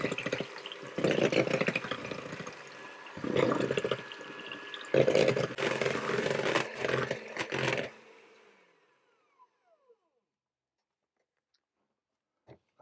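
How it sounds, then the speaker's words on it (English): Cream and sugar being whisked until stiff, a steady mechanical whirring with rattling that runs loud for about eight seconds in bursts, then cuts out, leaving near silence with a few faint knocks. "I'm going to whisk those until the cream is quite stiff"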